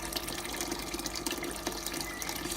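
A pump recirculates liquid through a HERMS home-brewing setup, giving a steady, dense watery rush with trickling and splashing throughout, close and constant with no talk.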